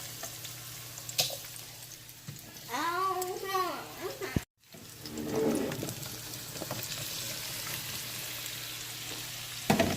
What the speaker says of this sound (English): So we're just gonna start laying the squash in here.